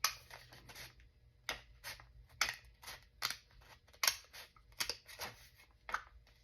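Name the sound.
scissors cutting junk mail envelope paper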